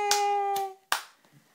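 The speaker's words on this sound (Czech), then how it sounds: "A zatleskáme Lukaškovi." Short clapping for a toddler named Lukášek, a few sharp hand claps heard close up in a quiet room, separated by gaps, with a sustained tone fading beneath the first claps.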